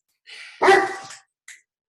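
A dog barks indoors: one loud, harsh bark in a short burst, followed after a pause by a brief fainter yip, close by with no talk over it.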